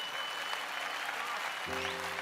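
Audience clapping in a church, a dense steady wash of applause that runs throughout, with a sustained organ or keyboard tone entering near the end.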